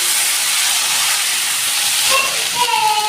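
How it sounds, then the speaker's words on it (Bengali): Shrimp lightly frying in a pan with turmeric and salt as mustard flowers are added, giving a loud, steady, close sizzle that hisses continuously throughout. "চিংড়িটা হালকা ভেজে নিয়ে এবার সেই সর্ষের ফুলগুলো সব দিয়ে দিচ্ছি"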